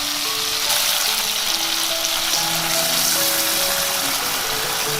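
Beef brisket is stir-fried in a wok with a splash of baijiu and sauce, giving a loud, steady, close sizzle with continuous tossing.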